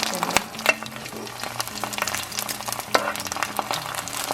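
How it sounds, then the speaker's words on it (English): Hot oil spooned over an egg frying in a pan, with continuous close sizzling and crackling plus a few metallic spoon clinks and scrapes, moderately loud and steady over a short stretch. "A way to make sure that the top part is fully cooked is to actually spoon some of the oil"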